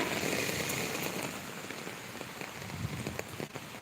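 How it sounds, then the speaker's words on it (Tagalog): Steady heavy rain pours down across a wide band of noise, with gusty rushing swells of strong wind, continuous and close, no voices. "Lakas na ng hangin, malakas na ang ulan."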